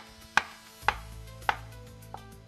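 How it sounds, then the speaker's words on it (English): A knife rough-chopping a small potato on a cutting board during kitchen meal prep gives four sharp, evenly spaced chops, loud and close, with the last one softer, and no talk. "I'm gonna cut it up a little bit more. Rough chop."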